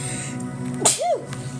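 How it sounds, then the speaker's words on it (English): A single sharp sneeze bursts out close by, briefly interrupting a quiet background. "I gotta sneeze."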